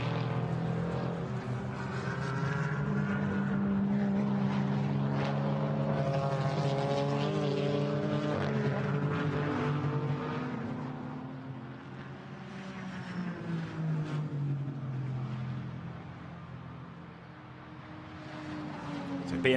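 GT4 race cars, a BMW and a McLaren, roar as they climb the hill toward the chicane at the Nürburgring, with a sustained loud engine drone that rises and falls as they pass, under commentary.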